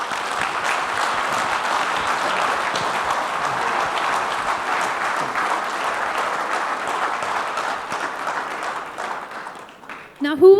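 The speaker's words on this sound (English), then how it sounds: "please give him another big round of applause, ladies and gentlemen" An audience claps at a speaking event, a full, steady round of applause sustained for several seconds before thinning out and ending with a brief burst of nearby noise.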